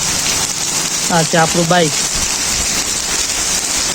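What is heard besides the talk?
heavy rain falling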